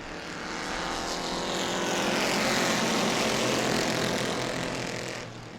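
Bomber B stock cars, mostly Crown Victorias, racing in a heat at New Smyrna speedway, a loud massed engine roar that swells as the pack passes close and then fades away.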